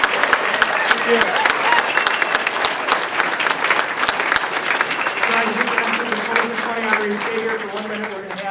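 A crowd at the FDLA 20 for 20 awards event claps for the 20 honorees, sustained, close and lively, then thins as a speaker's voice comes in over the fading applause.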